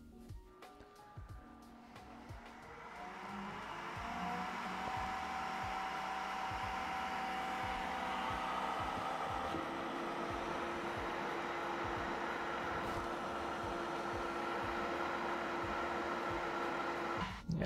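3D printer cooling fan blowing through a large two-chamber resonance silencer with big holes, a steady continuous whooshing hum that builds and holds loud with a faint tonal whine.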